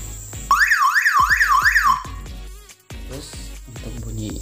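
A BELTECH BT666 car alarm siren wails in loud, rapidly rising and falling sweeps for about a second and a half, then switches to a different warbling chirp pattern, heard up close with no talking.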